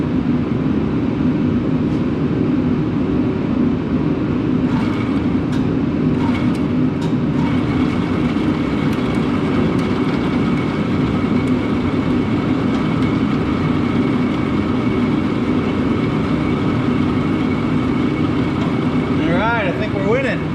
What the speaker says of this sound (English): I'm just gonna bump the motor and see if it comes shooting out.